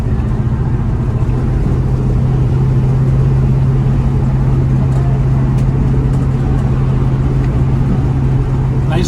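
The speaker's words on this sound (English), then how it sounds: "Nice driving car." A 1972 Chevrolet Nova cruises along with a steady low engine drone and road rumble that holds constant from start to finish, close and fairly loud, with no talking.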